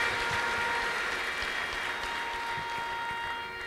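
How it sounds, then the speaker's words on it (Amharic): A church congregation clapping, a dense continuous patter of many hands throughout, slightly fading toward the end, with a sustained tone ringing over it. "እስቲ አጨብጭቡ"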